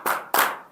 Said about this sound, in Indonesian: Tepuk satu kali, tepuk dua kali, tepuk tiga kali